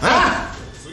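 A dog gives a single short, close bark that fades out within a second.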